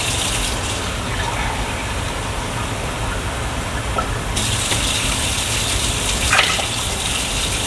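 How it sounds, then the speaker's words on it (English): Water gushes steadily into a soup pot being filled for spicy caldo de pollo, a continuous loud pour lasting several seconds with a brief splashy surge near the end. "So I am going to add some water to it."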